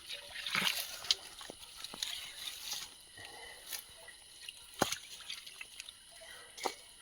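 A small trickle of water at a nearly dry spring in the forest, with faint scattered drips and soft splashes, a few sharper plinks standing out against a quiet background.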